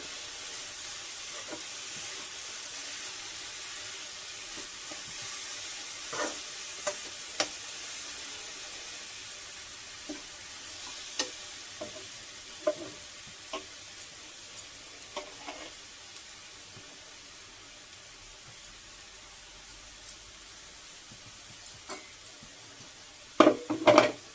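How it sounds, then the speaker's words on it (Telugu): A spoon stirs jaggery melting in a hot pan, soft scraping taps recurring at irregular intervals over a faint bubbling sizzle, with a few louder clanks of metal near the end. "ఇలాగా బాగా బెల్లం కరిగే వరకు కరిగించుకుందాం."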